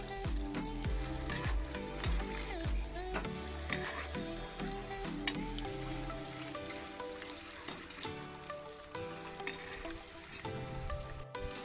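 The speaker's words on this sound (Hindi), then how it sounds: "अंडे तल गए हैं तो मैं इसे निकाल ले रही हूँ।" Eggs fry in hot oil in a pan for a dhaba-style egg gravy, a continuous crackling sizzle broken by scraping stirs and occasional clinks, close and moderately loud with no talking.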